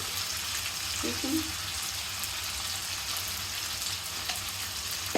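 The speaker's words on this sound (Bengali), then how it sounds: "আমি এটা সুন্দর করে ভালো করে মশলাটা কষাই নিব।" Chili powder and turmeric frying in oil for an olive pickle, a steady close hiss and sizzle with faint stirring scrapes underneath, continuous and even throughout.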